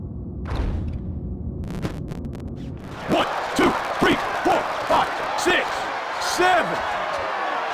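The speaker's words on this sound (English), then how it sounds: "Oh my, listen to the crowd erupt" A crowd roars in a PSP boxing career video game, swelling into a loud sustained roar after a quieter start, with rhythmic surging bursts and a commentator's voice over it.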